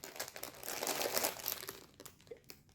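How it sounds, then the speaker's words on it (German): Inner plastic packaging rustles and crinkles while a cross-stitch parcel is unboxed, in a dense burst of close crinkling that eases off into scattered small crackles. "Es raschelt natürlich wieder, obwohl die äußere Hülle ja nicht raschelt, aber die innere Plastikverpackung."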